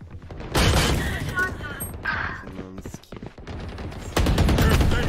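Enemy gunfire in the Valorant video game, rapid bursts of shots at close range, loud at the start and again near the end, with chatter in between.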